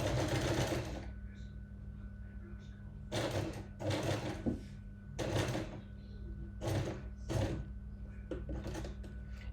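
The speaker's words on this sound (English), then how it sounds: "I've done a back stitch at the beginning and I'm going to stitch all the way down and do a back stitch at the end." A sewing machine stitches down a seam with a back stitch, running in several bursts of whirring motor and needle clatter separated by short pauses, close and fairly loud.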